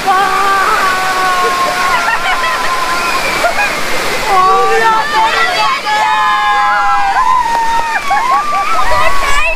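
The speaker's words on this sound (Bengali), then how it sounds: "সবাই এরোর গায়ে জল দিচ্ছে।" People splash cold water on each other beside rushing water. The water roars constantly under excited voices, shouts and squeals throughout.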